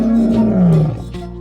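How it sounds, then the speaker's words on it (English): A wild lion gives a loud, close roar, one deep sustained call that slides downward and fades, with no other sounds around it. "The sound of their roar reverberates through their habitat, leaving no question as to who the ruler of the jungle is."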